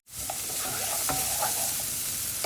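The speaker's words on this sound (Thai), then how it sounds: "ใส่แครอทลงไปผัดค่ะ" Carrots are stir-fried in a pan for chili con carne, a loud, steady, close sizzle that starts abruptly, with a few scraping clicks of the spatula and no talking.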